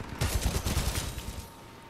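Quick run of pistol shots in the video game Titanfall 2, a rhythmic burst of sharp close reports that fades out after about a second and a half.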